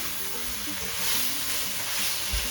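Kale for a dhal cooks down in a hot pan with a steady, bright sizzle and occasional stirring scrapes, close and continuous with no talking.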